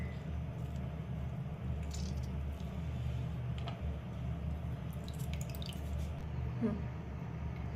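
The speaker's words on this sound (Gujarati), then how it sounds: "હવે એનું પાણી આપણે નિતારી લઈશું આવી રીતે" Water is drained off soaked dahi vada, heard as quiet drips and light splashes over a low steady background hum, with a few faint clinks.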